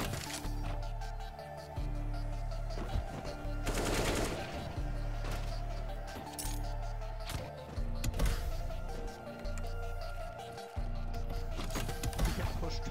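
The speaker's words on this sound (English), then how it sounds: "Somebody shooting." Rapid automatic gunfire from the CS:GO Danger Zone battle royale mode, with dense bursts and cracks running nearly continuously and loud throughout, peaking around a few heavy volleys.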